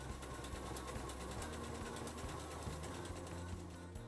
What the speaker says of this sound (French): je surfile la couture de manche